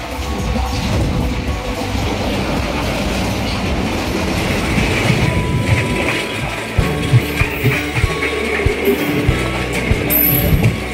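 A passenger train on the Miraj to Mumbai route, heard from on board, rumbles loudly and steadily, with a rhythmic clickety-clack of wheels over rail joints and rattling carriage noise throughout.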